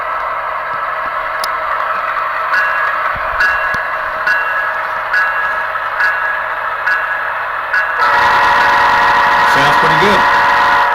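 An Intermountain model GEVO locomotive with an upgraded sound decoder running on a track, giving a steady droning diesel engine rumble with faint periodic clicks, which swells louder and fuller partway through.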